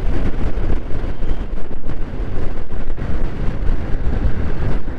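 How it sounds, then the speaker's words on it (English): Very strong wind buffets a microphone during a motorbike ride on a mountain road between Chandigarh and Manali, a loud, continuous rumbling roar with no letup. "Very strong wind."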